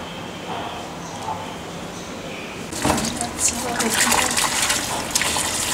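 Water gushing from a tap to rinse chiodini honey fungus mushrooms, a quiet hiss then a louder steady rush of running water and sloshing, close by, with talk in the background.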